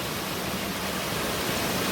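A swollen stream rushes after heavy May rain near farmland, a dense, steady hiss of flowing water close by, with no voices.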